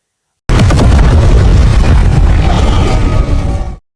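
A loud, close explosion bursts suddenly after a brief silence, then rumbles and roars for a few seconds before cutting off.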